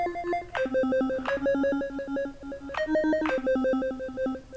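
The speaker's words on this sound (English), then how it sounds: "I've taken a square LFO and mapped that to the pitch at an octave, and now whenever we turn this on, it's going to actually kind of have a cool, almost like video game sound." A synth in Phase Plant with a square LFO mapped to pitch at an octave, producing a chirpy, video-game-like pattern of bright notes that jump up and down in a fast repeating rhythm, clear and alone.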